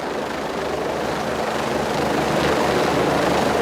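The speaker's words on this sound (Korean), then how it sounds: "지난해 부산 소방본부는 소방 헬기의 구조 성능 테스트를 하는 훈련을 했습니다." A Busan fire department rescue helicopter in flight, a loud, steady roar of rotor and engine that holds constant throughout.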